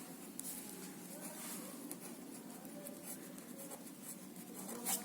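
A pen writing the date on a notebook page in a math classwork setting, faint scratchy strokes under a steady background hiss, quiet and close.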